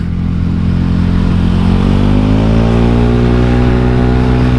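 A modified Honda Scoopy scooter with a stock engine and an aftermarket exhaust revs up close and loud, its engine pitch climbing steadily as it accelerates, with no voices.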